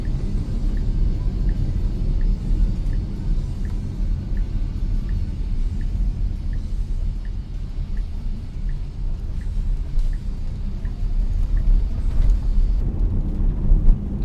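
Tesla Model Y, a 2025 electric car, cruising along a snowy road in Alaska, heard from inside as a continuous low road rumble and tire noise, with a faint regular ticking and no talking.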